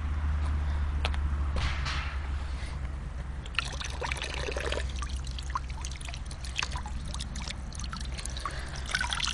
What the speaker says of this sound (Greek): κάτσε να πιούμε εδώ λίγο νερό, Σταύρε